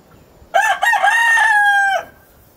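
A Roundhead rooster with long sickle tail feathers crows once, a loud close call opening with two short bursts and then a sustained tone that ends abruptly, in a quiet setting.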